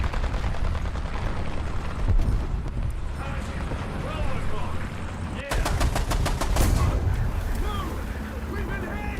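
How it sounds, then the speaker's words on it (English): Rapid machine gun bursts fired at aircraft in the video game War Thunder, sharp stuttering volleys over a dense, noisy battle mix with engine drone, the loudest burst coming past the midpoint. "machine gun fire against aircraft"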